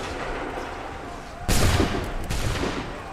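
Musket volleys ring out in Assassin's Creed III Remastered: after a murmur of battlefield ambience, a loud, sharp crackling volley erupts, followed a moment later by a second ragged burst of massed gunfire close by.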